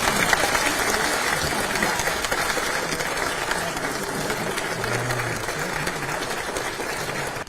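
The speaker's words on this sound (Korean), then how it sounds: "여러분 모두 박수." A room of lawmakers at a party caucus meeting breaks into sustained, dense applause that stays loud and even for the whole stretch, with a faint voice underneath.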